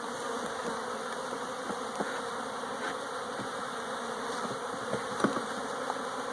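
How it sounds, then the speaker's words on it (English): Honey bees buzz steadily at a hive entrance with its reducer pulled out, a dense continuous drone of many wings close to the mic, with a few faint knocks of a hive tool and no talking. "Try not to hurt any more bees, because it's almost impossible to do this without hurting a bee or two."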